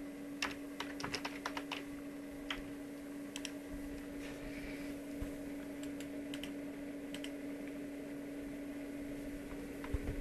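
Someone types on a computer keyboard for an internet search, with bursts of close, crisp key clicks in clusters and pauses over a steady electrical hum.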